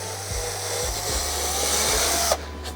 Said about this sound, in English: Anyway, so drill that through.